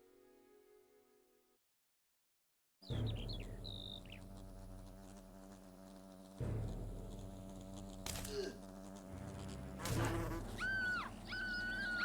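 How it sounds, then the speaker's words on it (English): Wasps buzzing in the video game Fable Anniversary, a droning insect hum with wavering tones over a busy game soundscape, starting after a brief quiet gap and continuing to the end. "Strike down the wasps."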